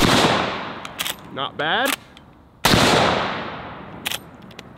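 Two loud 45-70 rifle shots, a low-power load followed a few seconds later by a full-power load, crack out close by with fading echoes. Someone speaks briefly between the shots.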